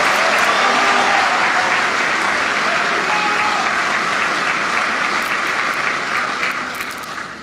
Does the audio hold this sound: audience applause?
yes